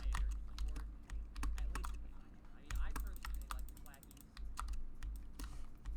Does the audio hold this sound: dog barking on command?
no